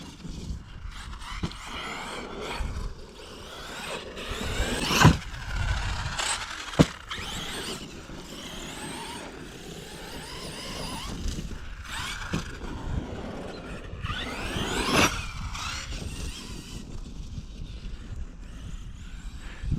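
A Tekno RC car tearing around a dirt pétanque court, its motor whining and surging in repeated bursts as the throttle opens, with wind buffeting the microphone and gritty rumble from the ground.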